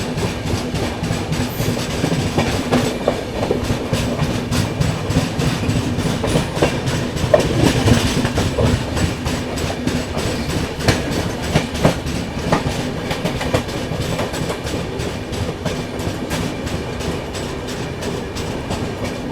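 An express train pulls into a junction station at Laksar, arriving from the Roorkee and Saharanpur direction, with steady rolling rumble and clickety-clack of wheels building near and loud throughout.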